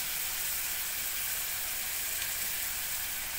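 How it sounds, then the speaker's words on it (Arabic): Salt and cumin are sautéed in a hot pan, producing a steady, bright sizzle that holds even and close throughout with no talking. "نشوح الحاجات دي مع بعض"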